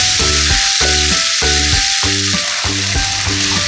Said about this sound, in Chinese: 倒入花雕酒30克，鸡汁8克，翻炒10下左右。